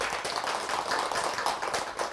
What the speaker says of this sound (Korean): 뜨거운 박수 한번 주시기 바랍니다.